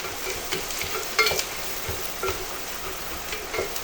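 Onions and freshly pressed garlic fry gently in a pan, a soft steady hiss with scattered clicks and scraping as the mixture gets stirred, all close and without talk.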